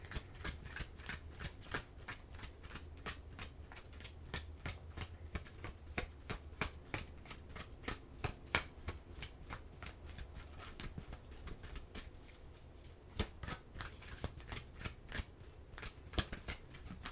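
An oracle card deck is shuffled close by in rapid, crisp riffling bursts, a continuous flutter of card snaps with faint pauses, no speech.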